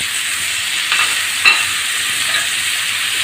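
Noodles with grated carrot and potato fry in a pan with a loud, steady sizzle, while a couple of soft stirring scrapes rise briefly above it; no one speaks.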